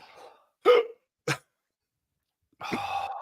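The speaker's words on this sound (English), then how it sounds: "Why do you have the hiccups?" A person hiccups twice in quick succession, each a short sharp burst, followed by a drawn-out voiced moan after a pause.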